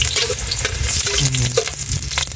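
Garlic and onion sauté loudly in a pan for pancit, a close, thick crackling sizzle with faint stirring knocks, continuous and dense for the whole brief moment.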